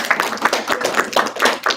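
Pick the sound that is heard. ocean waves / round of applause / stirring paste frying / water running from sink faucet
round of applause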